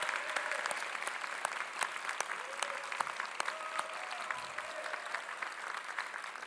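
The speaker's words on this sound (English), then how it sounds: "let's have one more round of applause for all of our graduates" A crowd gives steady applause for graduates at a university public health convocation, heard continuously and fairly faint as if from a distance, with dense, even clapping and no talk over it.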